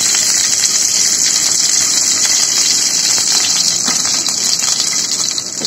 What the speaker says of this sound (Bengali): রসুন আগে দিচ্ছি, কারণ পেঁয়াজের থেকে রসুনটা ভাজতে একটু সময় দরকার।